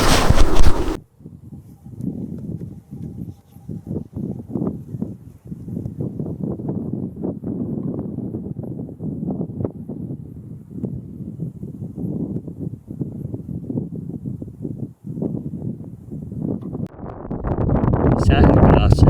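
Wind gusts buffet the microphone steadily outdoors on a hunting trip in grass and shrubbery, a low rumbling roar with rustling that swells louder toward the end.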